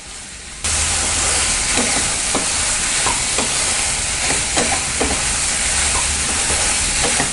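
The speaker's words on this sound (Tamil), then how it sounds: "நல்லா தக்காளி வதங்கிடுச்சு, எண்ணெயும் கொஞ்சம் விட ஆரம்பிச்சிருச்சு." Tomatoes sautéing in oil in a pan for paneer butter masala give a steady, fairly loud sizzle that jumps up after a quiet first moment. Soft stirring taps recur through it, and no one speaks.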